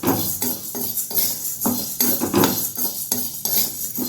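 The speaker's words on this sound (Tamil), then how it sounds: "கை விடாமல் வறுக்கணும், சிம்மில் வச்சு வறுக்கணும், பொறுமையாக வறுக்கணும்" Flour for murukku being dry-roasted in a pan, stirred with a spoon in rhythmic scraping strokes roughly twice a second, each stroke a close, clinking scrape on metal.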